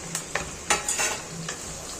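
Oil sizzling in a pan while frying for fish head kolambu, with a few short bursts of crackle and clinking utensil strokes over a low steady hiss, no talking.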